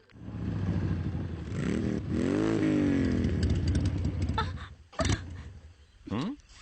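A motorcycle engine sputters as it runs out of petrol: steady running rises into uneven revving, then it cuts out abruptly with a few weak, choking bursts before dying.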